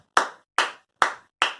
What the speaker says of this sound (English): you have to clap 5 times